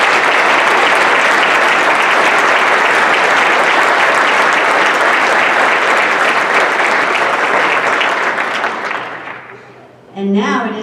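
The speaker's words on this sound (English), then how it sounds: "So let's give them all a big round of applause." Sustained, loud applause from an audience honouring teachers at a school district awards evening in Rapid City, fading out near the end before a voice begins.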